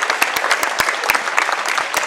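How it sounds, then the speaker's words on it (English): A high school basketball crowd at Plymouth Regional High School applauds seniors in a standing ovation, dense continuous clapping with sharp individual claps standing out, loud and sustained throughout. "the seniors coming off a much deserved round of applause and a standing ovation from the crowd here at Plymouth Regional High School"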